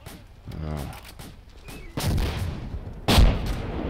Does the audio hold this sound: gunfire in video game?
yes